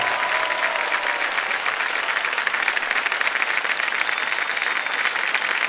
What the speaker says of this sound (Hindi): जोरदार तालियां बज जाए रश्मि जी के लिए